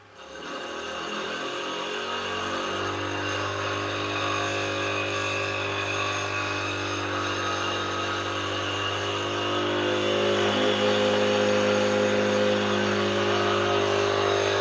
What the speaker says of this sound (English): I'm going to go sharpen up my roughing gouge.